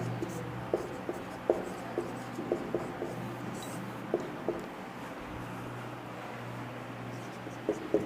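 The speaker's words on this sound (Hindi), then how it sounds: "तो देखिए इनकी डेफिनेशन लिखते हैं" Chalk writing a definition on a board in a number system lesson, a series of distinct taps and scratchy strokes in irregular rhythm over a steady low hum, no voices.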